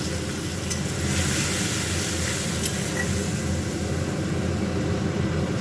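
Spice paste with tomato sizzles and fries steadily in a pan after water is added, a continuous close hiss without pause or talk.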